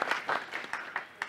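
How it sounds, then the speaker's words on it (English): An audience at an arts event gives a brief round of applause, with a few distinct bursts of clapping swelling and fading over a short span at moderate volume. "Please just give them a round of applause and welcome them."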